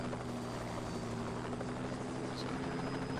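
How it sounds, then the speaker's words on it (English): Helicopter in a video game flying close by, a steady loud rotor drone and engine buzz with a constant hum holding throughout, no voices over it. "I think we can make it hit the other helicopter."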